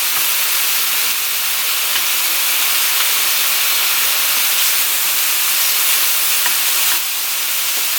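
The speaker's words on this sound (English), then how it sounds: "So everything's sizzling away." Steady, loud sizzling hiss of chicken and scallops frying on a hot grill, continuous throughout with occasional faint crackles and no talking.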